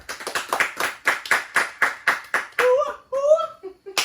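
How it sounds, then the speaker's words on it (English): Small group audience clapping with distinct, evenly spaced hand claps, close and loud, followed by whoops and a cheer from voices near the end. "Can we get a round of applause?"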